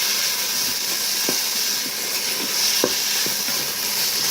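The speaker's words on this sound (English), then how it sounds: "Stir that around and keep it from burning." Onions being stirred into peas and carrots in a Ninja Foodi pot on residual heat, a steady hiss of frying with a few soft utensil scrapes and clicks scattered throughout, close and alone.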